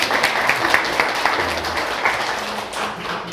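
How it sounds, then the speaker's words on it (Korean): A lecture audience gives a round of applause, moderate and even clapping that carries on for several seconds at medium distance before tapering slightly, with no voices over it. "박수 한번 쳐주시죠."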